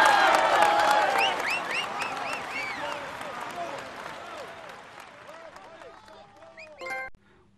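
A large crowd applauds and cheers in a Tour de France video game, loud at first and then gradually thinning out, with a brief burst of noise near the end.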